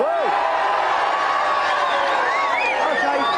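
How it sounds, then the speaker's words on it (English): A studio audience at a televised video game show cheering and whooping loudly, a dense sustained roar of crowd noise with rising shouts and whistles throughout. "crowd is cheering here going wild"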